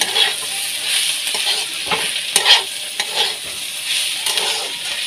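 Ivy gourd (kundru) frying in a pan with turmeric and salt crackles and sizzles steadily up close, broken by repeated scraping stirs of a spatula against the pan.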